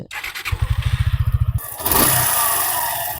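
A 2025 Suzuki Gixxer Fi Disc motorcycle with tappet noise, first cranking in a rapid pulsing burst for about a second, then catching into a loud, steady, close idle.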